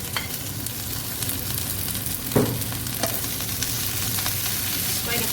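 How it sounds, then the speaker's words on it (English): Potatoes fry for masala potatoes in a pan, giving a steady close sizzle with occasional stirring scrapes and one brief louder clatter partway through, with no talking. "Just going to fry them for a bit."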